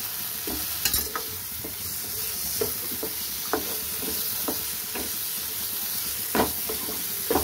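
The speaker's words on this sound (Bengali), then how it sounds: "মশলা থেকে তেল ছেড়ে দিয়েছে, এবার আমি আলুগুলো দিয়ে দেবো" Potatoes going into hot masala oil in a pan, with a steady sizzle and frying hiss throughout, broken by several sharp stirring knocks and scrapes.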